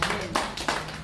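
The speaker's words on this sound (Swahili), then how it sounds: "Piga Yesu makofi." Church congregation clapping hands during a lively service in Kenya, with three sharp bursts of claps roughly a third of a second apart, close and fairly loud over a low room hum.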